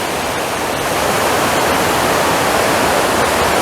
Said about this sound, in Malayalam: നല്ല ശബ്ദം, വെള്ളച്ചാട്ടത്തിൻ്റെ ശബ്ദം ഭയങ്കര ഇഷ്ടമാണ്